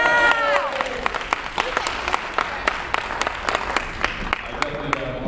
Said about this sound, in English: Can you give him another round of applause?